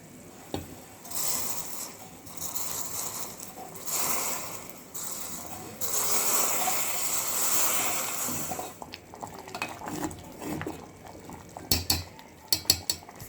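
Semiya payasam with cooked sago is stirred in a metal pot with a spoon, giving repeated scraping and clinking strokes in uneven bursts, close and moderately loud, ending in a few sharper taps.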